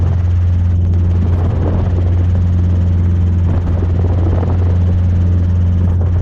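A Robinson R22 helicopter flies a training circuit with a loud, constant engine and rotor drone filling the cabin, steady from start to finish.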